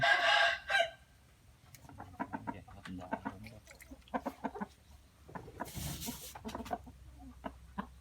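A rooster crows loudly at the start, followed by a series of short clucks and bird calls amid outdoor background noise.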